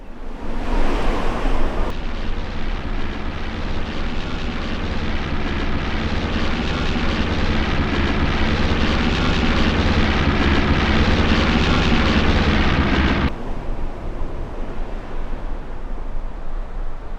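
Plane taking off on a long airport runway in a video game, a steady loud engine roar that holds for about eleven seconds, then cuts down to a quieter rumble.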